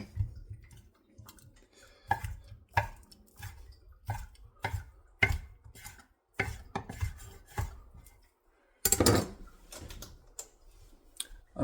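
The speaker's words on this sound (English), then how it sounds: "Cut up your sausage." A knife cuts through sausage on a board in a home kitchen, giving a series of sharp, close taps and clicks at an irregular rhythm with short pauses between them.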